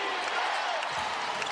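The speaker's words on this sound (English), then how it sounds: "Crowd on its feet." Indiana Fever basketball crowd in Indy roars and cheers as fans get on their feet, a dense, sustained wash of noise filling the arena for a brief moment.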